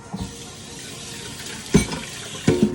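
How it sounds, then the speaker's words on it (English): A pot is rinsed under a running kitchen tap, a continuous hiss of flowing water with two sharp splashing knocks of the pot toward the end, close and fairly loud. "I'm gonna go ahead and rinse this out."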